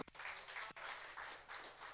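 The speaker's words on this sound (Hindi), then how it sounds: "जोरदार ताली प्रभु को दे प्यारे लोग" Congregation at a Hindi Sunday church service giving hearty applause, a quiet, dense patter of many hands clapping steadily for two seconds with a couple of sharper single claps near the start.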